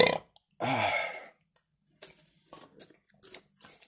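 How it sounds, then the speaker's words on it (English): A man gives a loud, close burp lasting under a second after drinking Bushmills Irish whiskey, followed by quieter mouth noises and faint clinks. "There's some good flavor on that burp."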